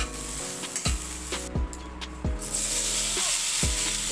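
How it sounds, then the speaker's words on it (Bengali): Marinated soybean chunks fry in mustard oil in a kadai with a close, bright sizzle. Repeated knocks and scrapes from a spatula come roughly every half second to second. "একটা কড়াইতে সামান্য সর্ষের তেল দিয়ে মেখে রাখা সয়াবিনগুলো দিয়ে কিছুক্ষণ নাড়াচাড়া দিয়ে ভালো করে ভেজে নিলাম"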